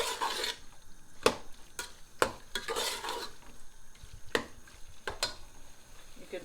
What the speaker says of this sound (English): just let the tomato fry for a minute or so.